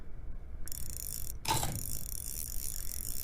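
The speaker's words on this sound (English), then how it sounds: "You're just reeling in stuff." Fishing reel ratchet clicking during reel-in in the Cat Goes Fishing video game, a mechanical whirring burst around the middle over steady game ambience.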